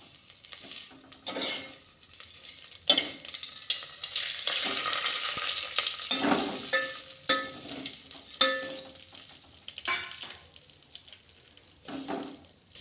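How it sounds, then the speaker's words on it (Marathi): Vermicelli roasted in hot ghee for a sweet kheer, a continuous frying crackle with repeated scraping and stirring strokes and occasional clinks of utensil on pan, close and fairly quiet. "तूप गरम झाले, आपण शेवाळ्या भाजून घेऊ."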